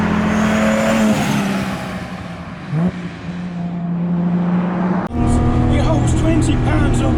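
A 645 whp RB26-swapped Datsun 240z with 20 psi of turbo boost accelerates hard, loud rising engine drone through gear shifts with a sharp break mid-run, heard close from inside under a voice.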